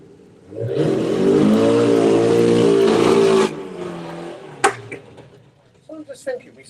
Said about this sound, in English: our start line crew are going to be poised and ready for the upswept diesel exhaust